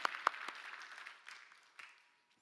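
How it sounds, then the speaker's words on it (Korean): A church congregation gives a short round of applause at a Sunday worship service, with a few sharp claps that quickly thin out and fade into quiet within about two seconds. "우리 박수로 한번 격려합시다."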